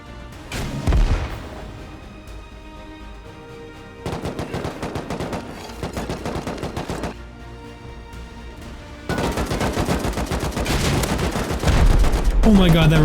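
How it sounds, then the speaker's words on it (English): Rocket blasts and C4 explosions during a raid defense in the survival game Rust, loud booms and bursts of gunfire layered over continuous battle noise, intensifying toward the end. "Oh my god, that rocket just flew by my face."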